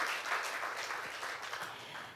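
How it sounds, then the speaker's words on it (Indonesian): Church congregation applause, a faint, steady patter of many hands clapping at a distance, sustained without pause. "Beri tepuk tangan dia sekali lagi buat Tuhan kita Yesus Kristus."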